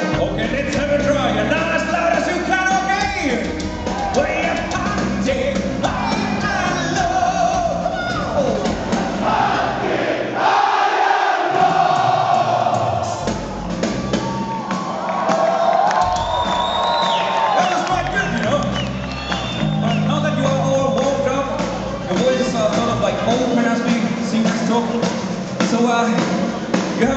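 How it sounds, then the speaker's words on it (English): A large concert crowd at a show in Lima, Peru roars and shouts loudly in a sustained wall of cheering and whooping, with a short lull before the noise swells again. "You have last chance to be the loudest crowd on this tour, but you have to be very, very loud."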